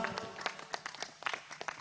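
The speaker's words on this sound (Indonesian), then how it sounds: "Tepuk tangan buat Zahra." A small audience claps sparsely after a Quran recitation at a madrasah memorization event, scattered individual claps spaced apart over a faint background hum.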